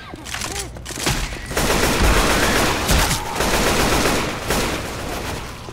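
Shotgun blasts in the zombie shooter Left 4 Dead 2, loud, rapid booming shots layered with chaotic game noise and gunfire, dense and close throughout.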